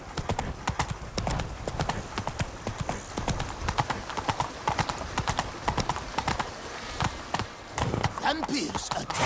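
Roach the horse gallops in The Witcher 3 video game, rapid clip-clopping hoofbeats in a steady rhythm, fairly close, with game sounds and occasional voices underneath.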